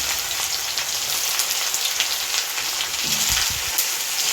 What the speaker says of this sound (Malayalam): കടുക് പൊട്ടി ഇനി അതിലോട്ട് കറിവേപ്പില ഇട്ട് കൊടുക്കാം